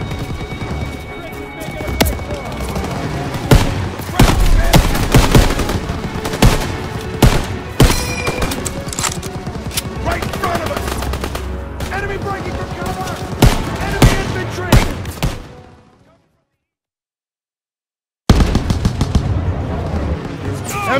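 Heavy machine gun fire rattles in rapid, loud bursts during a World War II battle in Call of Duty WWII, with shouting voices mixed in, before a sudden drop to silence and then more firing.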